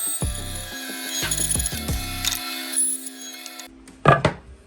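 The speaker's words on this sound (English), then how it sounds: "Then use the bandsaw again just to get rid of the material from the centre." A bandsaw cuts away waste wood from the centre of a workpiece while making a DIY Christmas light organiser, with several short bursts of blade noise, pauses between cuts, and a steady motor hum, then a sharp clatter at the end.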